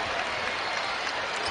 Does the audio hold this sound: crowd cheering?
yes